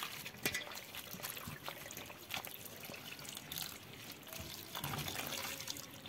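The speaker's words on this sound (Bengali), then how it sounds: "দেখো বন্ধুরা এইভাবে করে একটু ধুয়ে নিতে হবে, তাহলে আমের কষটাও বেরিয়ে যাবে" Cut pieces of raw green mango being washed by hand in water, with steady splashing and trickling, soft sloshes and occasional brief knocks, fairly close and moderately loud throughout.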